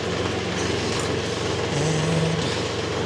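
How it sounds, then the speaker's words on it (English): A Kubota tractor engine runs steadily while the machine repositions, a loud continuous diesel drone with a low hum that shifts slightly in pitch partway through, with no talk over it. "And now, let's bring the tractor back in."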